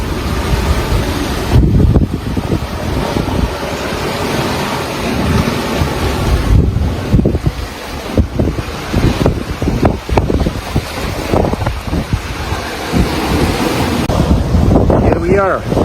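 Strong wind buffets the microphone over a rough open ocean as a sailboat rides three to four meter waves, with repeated surges of spray and crashing water rising and falling throughout, continuous and close.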